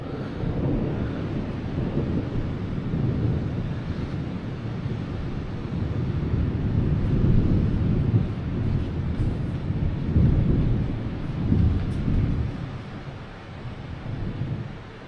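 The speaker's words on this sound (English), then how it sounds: "the thunder and lightning" Thunder from a storm at a holiday resort in Sousse, Tunisia, rolls as a continuous low rumble that swells and fades over about fifteen seconds, mixed with wind buffeting the microphone and no talking.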